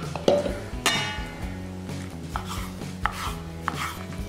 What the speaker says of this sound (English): what I have to do now is just slice these up so they blend up nicely